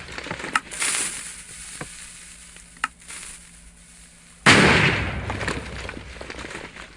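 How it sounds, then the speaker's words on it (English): A Minecraft TNT launcher's TNT blowing up in the game: a sudden loud blast about midway, with a roaring, crackling tail that keeps going to the end. Sharp pops and ticks come before it over a low steady hum. "Then it'll explode above the ground or somewhere close"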